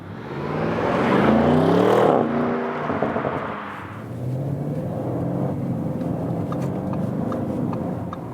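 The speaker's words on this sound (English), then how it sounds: "Now to some city driving, everyday driving life situations" A 2020 Audi RS7 Sportback moves through city traffic, a steady close engine and road rumble that swells briefly as it accelerates, then settles into a quieter cruising drone.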